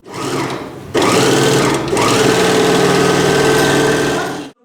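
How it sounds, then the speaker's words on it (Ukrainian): Household sewing machines run in a school workshop, a loud close mechanical whirring with a fast stitching rattle that stops briefly twice and then continues. "У ній є понад десяток побутових швейних машин та два оверлоки."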